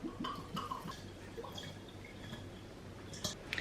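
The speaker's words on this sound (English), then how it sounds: "Next up, simply pour in your vodka." Vodka is poured over mashed blackberries in a container, a faint liquid dribble with soft drips and squishes, close and quiet with no talk.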